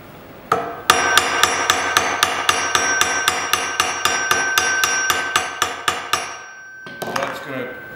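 Textured, file-roughened hammer striking a metal bracelet during a forging demonstration: a steady run of about twenty quick, ringing metallic blows close up, a short pause, then a few more strikes.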